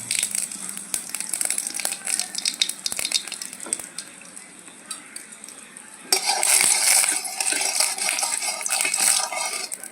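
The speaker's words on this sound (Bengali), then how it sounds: "দিয়ে দিলাম গোটা জিরে।" Whole cumin seeds sizzling in hot oil in a pan, a steady crackling hiss with scattered clicks from stirring that swells louder and denser partway through.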